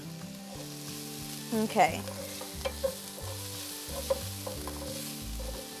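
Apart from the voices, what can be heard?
black beans sizzling and being stirred in a pan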